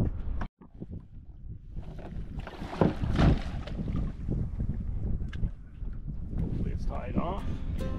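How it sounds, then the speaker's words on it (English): A dinghy is rowed ashore toward a wharf dock in Lunenburg, with soft splashing and wind rumble on the microphone, the oar strokes indistinct beneath people talking for most of the stretch. "So we rowed ashore to the dinghy dock at the Zwicker Wharf"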